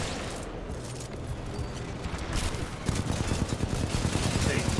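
Turret gunfire in a Titanfall 2 campaign firefight: rapid, rattling automatic bursts that build into a dense, steady stream of shots in the second half, loud and close.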